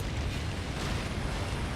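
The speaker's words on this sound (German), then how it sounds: "Ist alles explodiert, gut." An explosion in the video game Darksiders, a brief, loud, rumbling blast that fills the moment with dense low-end roar and no speech.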